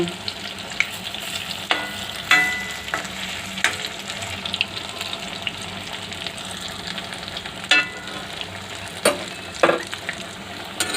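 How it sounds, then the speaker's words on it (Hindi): Colocasia leaf rolls frying in hot oil, a loud steady crackling sizzle broken by several sharp clanks and scrapes of a ladle against the pan. "ये देखिए इस तरह से हम फ्राई करेंगे अच्छे।"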